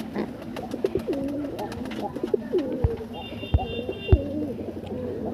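Female pigeon of an old generation line cooing softly in a home loft, low repeated coos with a few sharp knocks and a faint whistle, under ongoing background noise.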